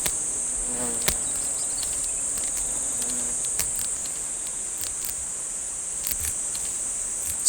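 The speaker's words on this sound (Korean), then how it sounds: "무서운 사냥꾼 장수말벌의 등장." Asian giant hornet feeding at oak sap in a forest, a steady close insect buzz with a high whine that holds throughout, alone apart from faint scattered ticks.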